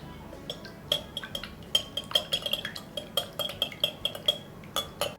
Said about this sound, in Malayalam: ഈ മുട്ട രണ്ടും നമുക്കൊന്ന് ഉടച്ചിട്ട് അത് നല്ലോണം ഒന്ന് ബീറ്റ് ചെയ്തെടുക്കാം